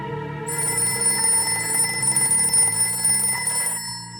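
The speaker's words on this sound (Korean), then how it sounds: "지금 전화 왔어요." An electronic phone rings continuously with a steady buzzing trill over a repeating low pattern, loud and close, stopping abruptly near the end.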